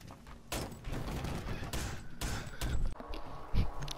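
Video game gunfire crackles in bursts, with sharp reports and thuds mixed into a busy, moderately loud background and a heavier hit near the end.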